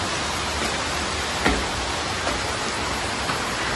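Steady rain falling at night around a school building in Madura, a continuous dense hiss with a few faint knocks, no voices.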